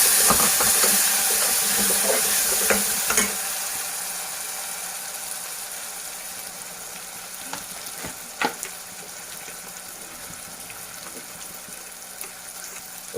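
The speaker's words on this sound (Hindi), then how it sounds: "उसके बाद मैं इसमें चॉप टमाटर डालूंगी।" Chopped tomatoes with cumin and crushed red chili fry in a pan for a singri yogurt curry, giving a steady close sizzle that is loudest at first and then settles, with a few sharp stirring clicks and no voices.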